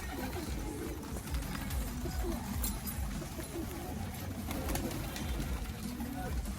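Soft pigeon coos near a rooftop coop drift over steady outdoor background noise, with faint murmuring voices mixed in throughout.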